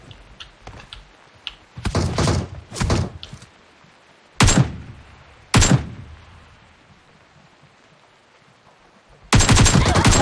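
Gunfire in the mobile battle-royale game PUBG Mobile, several sharp bursts and single shots scattered across the stretch with quiet gaps between, ending in a sustained loud volley.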